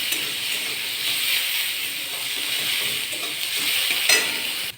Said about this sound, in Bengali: লাল লাল করে পেঁয়াজ ভেজে নেব